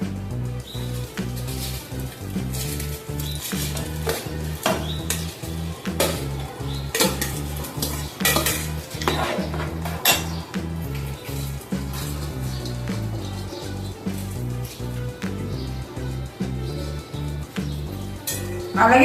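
Rice tipped into a biryani pot and stirred, with steady clattering of metal pots and utensils and sizzling throughout, close and fairly loud, with rhythmic scraping strokes and no talking.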